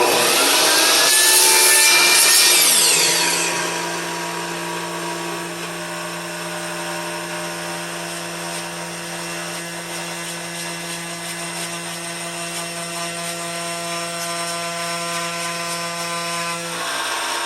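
A miter saw cuts a small piece of wood, a loud whining blade burst lasting about three seconds, then the motor winds down with a fading steady hum over the remaining seconds.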